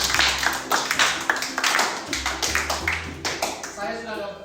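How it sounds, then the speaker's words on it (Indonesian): A small group claps hands during a cooking practice session, a short run of uneven, separate claps over roughly four seconds, with voices speaking over them. "Ya, tepuk tangan dong"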